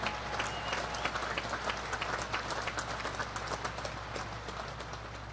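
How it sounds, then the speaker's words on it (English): Applause for the Naval Academy Band at a commencement ceremony, a steady wash of many hands clapping at moderate distance with no talk over it, holding for the whole span. "How about a round of applause for the Navy Band?"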